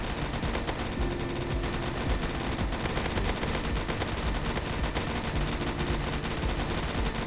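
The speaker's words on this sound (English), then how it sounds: "I'll never stop shooting the zombie" Rapid game gunfire shoots zombies in a zombie attack video game, a dense, continuous rattle of automatic shots over busy in-game noise, loud and unbroken throughout.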